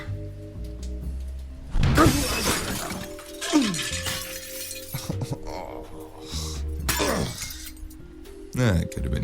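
A window's glass smashes in a noir audio drama, a sharp, close shatter followed by tinkling fragments and scattered clinks, heard beneath continuous spoken dialogue.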